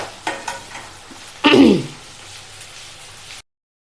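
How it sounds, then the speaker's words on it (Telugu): Green chilies added to onions frying in a pan for Andhra-style fish pulusu: a few faint taps, then one short, loud sizzling burst that quickly dies down to quiet crackling. "ఇప్పుడు ఇలా పచ్చిమిర్చి వేసుకోవాలి, ఇంకా బాగా ఫ్రై అవ్వాలి మనకి ఈ ఆనియన్స్ అనేవి"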